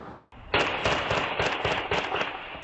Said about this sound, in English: Sunday night in North Seattle, blast of gunfire.